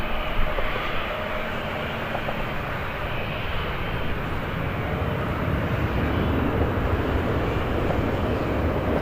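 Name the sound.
airplane landing on runway at Birmingham airport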